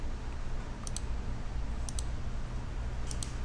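Computer mouse clicks while modeling in SketchUp, three quick double clicks spaced about a second apart, crisp and close over a steady low hum, with no talking.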